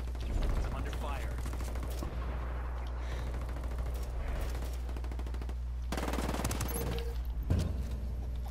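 Sustained gunfire in the video game Ghost Recon Wildlands: rapid machine-gun bursts and scattered shots crackle almost continuously, with some voice chatter mixed in.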